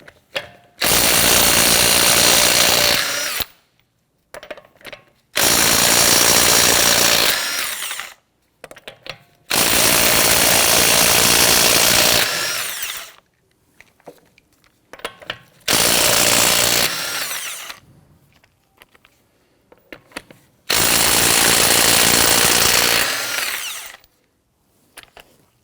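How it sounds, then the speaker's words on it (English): A power tool with a 21 mm socket spins lug nuts off the front wheel of a 2017-2020 Hyundai Elantra in five loud, close bursts of about three seconds each, with short quiet gaps between them. "Using a 21mm socket,"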